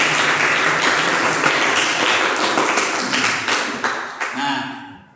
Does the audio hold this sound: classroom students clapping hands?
yes